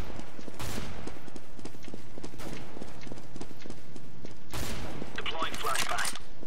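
In Counter-Strike, a decoy grenade imitates gunfire with dense, rapid crackling bursts of fake shots that continue throughout, loud and close in the game mix.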